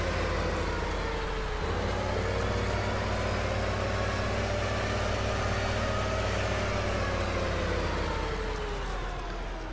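A tractor engine in the video game Farming Simulator 15 drones loudly and steadily throughout with a constant mechanical hum, a slight shift in pitch partway through and no talking.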